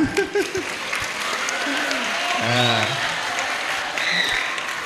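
Sustained applause from a school audience at an Isra Miraj talk show, steady throughout and heard beneath voices speaking and a few tonal sounds.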